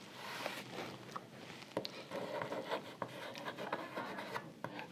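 Chalk writing on a blackboard during a physics lesson: quiet, close scratching and tapping strokes in short irregular bursts, with no speech over them.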